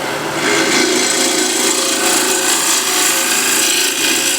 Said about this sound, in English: I'm squeezing my hand and dragging the gouge towards me, and that does the job really nicely